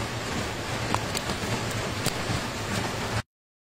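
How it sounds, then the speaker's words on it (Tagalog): Heavy rain pours steadily and densely, a continuous hiss with occasional louder drops and spatters close by, then cuts off abruptly. "Hindi ko alam kung naririnig kasi ang lakas ng ulan."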